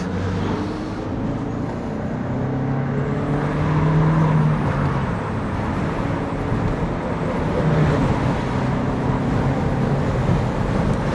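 An Opel Astra H convertible pulls away and drives on, a steady engine drone with road rumble and rising and falling engine tones heard from inside the car, no talking.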